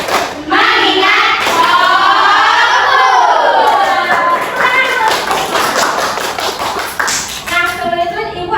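A class of children claps in rhythm while chanting together in a loud, close group, with voices rising and falling over the patter of hands.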